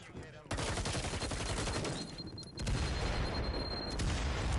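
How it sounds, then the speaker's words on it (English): Dense, continuous video-game gunfire from a professional esports match crackles with rapid overlapping shots and booms, loud and sustained throughout. "Drawing some gunfire as BF."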